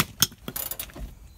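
A ratchet clicks briefly while tightening a shock absorber bolt on a 2014 Ram ProMaster van, a few close quick clicks with a sharp metallic snap at the start.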